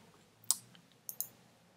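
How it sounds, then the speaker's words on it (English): Computer mouse clicks: one sharp, close click followed a little later by a quick pair of clicks, faint against a quiet room background. "And now I can click refresh."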